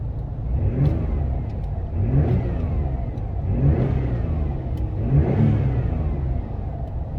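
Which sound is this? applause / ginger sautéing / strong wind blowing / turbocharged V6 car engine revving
turbocharged V6 car engine revving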